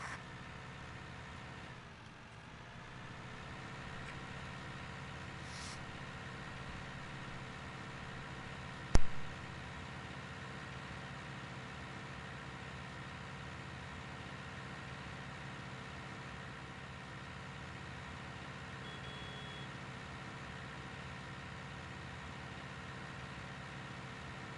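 A tractor engine idles in the video game Farming Simulator 19, a steady, faint mechanical drone that holds unchanged for a long stretch, broken by one sharp click partway through.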